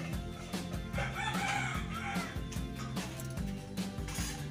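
Chickens cluck and a rooster crows nearby as a hen is brought in for brooding, a busy continuous stream of fowl calls.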